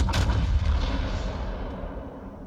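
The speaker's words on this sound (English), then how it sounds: "He can actually lob shells over the top of this island" A battleship fires its shells over an island in the naval game World of Warships, a single loud, deep artillery boom that rumbles and then fades away slowly, with no talking.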